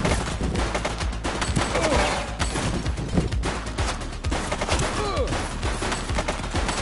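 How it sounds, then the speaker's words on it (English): Rapid gunfire bursts crackle through a shootout in the police video game The Precinct, dense repeated shots close and loud, with a faint voice underneath. "He's shooting!"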